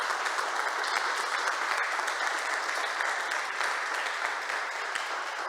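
Sustained, steady applause from the audience at a talk on women's self-care, a dense even wash of clapping filling the whole stretch without pause.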